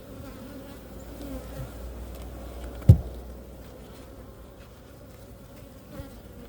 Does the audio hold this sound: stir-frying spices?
no